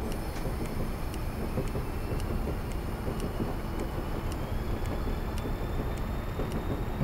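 A Class 37 diesel locomotive running in Train Simulator on Scotland's West Highland Line: a continuous heavy rumble and roar at steady loudness, with evenly spaced metallic clicks from the track and no speech.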